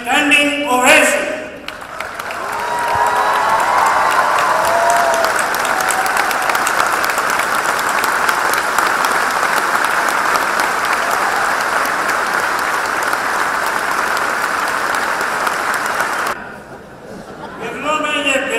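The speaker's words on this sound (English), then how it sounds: "With an applause and standing ovation." Sustained audience applause at a management conclave greeting a standing ovation, a loud, dense, even roar of clapping lasting over ten seconds, with brief speech before and after.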